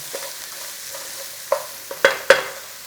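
A pan of onions sizzles quietly in the background while a few sharp clinks of a utensil against the pan ring out near the end.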